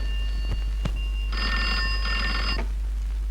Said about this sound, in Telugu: ఫోన్ ఫోన్ ఎవరు వచ్చింది చూడమ్మా.